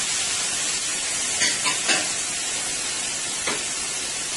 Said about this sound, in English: my oil is pretty hot here, so I'm going to go ahead and add my bacon. And I am going to add my sausage.